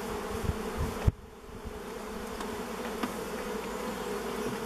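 Bees buzzing steadily around an old beehive that had not been opened in over 30 years, while years of propolis are cut between the frames and the box; a few faint scraping knocks sound close under the continuous hum.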